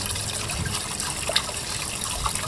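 Water and diesel drain from the tank of a derelict mower, a steady close trickle and splash with a few small drips, no talk.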